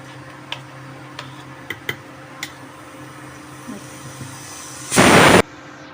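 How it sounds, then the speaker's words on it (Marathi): A kitchen mixer grinder pulses on six days' collected milk cream for making ghee. A few faint clicks come first, then one short, loud whirring burst of about half a second. "आता हे मी बारीक करून घेते मिक्सरला."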